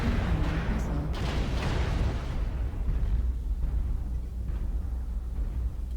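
Heavy missile explosions pound a mech during video game combat, a dense, continuous barrage of deep booms and crackling blasts that stays loud throughout.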